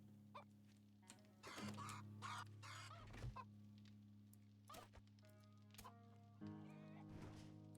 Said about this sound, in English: Hey, we got a chicken in the coop!